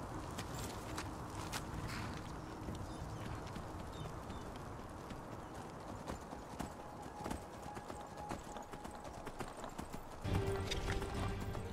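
Donkey hooves clip-clopping in the fantasy video game Enderal, a steady walking rhythm of hoof falls over ambient game sound, growing louder near the end.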